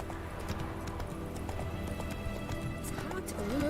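Roach, a horse in The Witcher 3, runs with steady clip-clop hoofbeats at moderate distance, joined by a brief whinny near the end over a faint game background.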